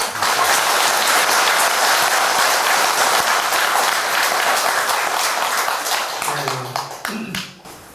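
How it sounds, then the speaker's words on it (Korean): Audience applause at a Buddhist dharma talk during a grand assembly at Songgwangsa temple, loud continuous clapping from a crowd that fades out near the end as a voice begins to come in. "박수 한번 주시죠"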